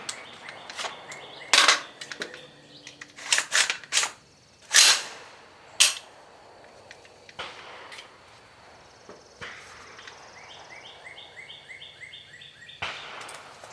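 Nine-millimetre pistol shots using Magtech steel-cased ammunition, fired offhand outdoors: a handful of sharp, loud cracks spread unevenly over the first six seconds, then a quieter stretch with faint background noise and one softer pop near the end.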